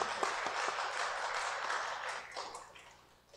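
A Korean church congregation claps during a Sunday worship service after a choir hymn, a steady crowd applause with a few distinct claps early on that gradually thins and fades toward the end.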